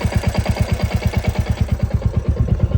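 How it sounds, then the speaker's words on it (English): Royal Enfield Classic Reborn single-cylinder engine running hot at lean burn on a FuelX Pro Plus map, giving a steady, rapid pounding clatter of even beats, close and loud with no talk. "the sound is like the clatter is more because the engine heat is more"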